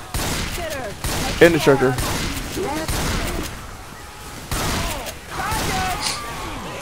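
Shotgun blasts sound in a Left 4 Dead 2 firefight, several sharp bursts at irregular intervals mixed with other gunfire and game effects, while voices talk over the action.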